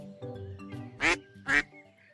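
A duck quacks twice in quick succession, loud and close, over soft background music in a children's educational program.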